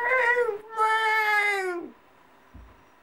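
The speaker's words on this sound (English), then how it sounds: "your cat. Yeah, don't meow." A cat gives one long, drawn-out meow with a brief lead-in cry, loud and close, followed by a short low thump and quiet.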